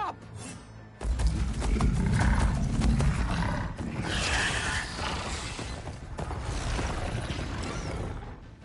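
Mechanical machine creatures being ridden in Horizon Forbidden West, a loud continuous churn of grinding, creaking metal with roar-like growls, steady from start to finish after a quiet opening second.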